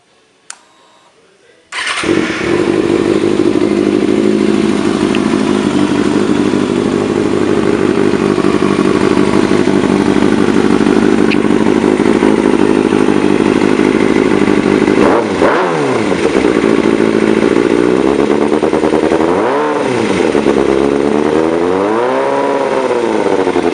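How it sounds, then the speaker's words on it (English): A 2009 Kawasaki ZX6R motorcycle with a Works exhaust starts up after a short silence, then idles loud and close before several sharp revs rise and fall toward the end. "I'm going to be doing a sound clip with the Works exhaust on my 2009 ZX6R."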